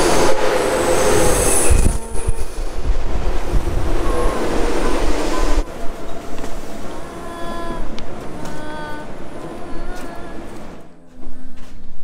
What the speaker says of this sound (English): we're now standing in the train station